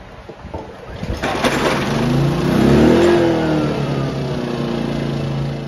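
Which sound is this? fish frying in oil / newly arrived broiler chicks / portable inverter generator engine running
portable inverter generator engine running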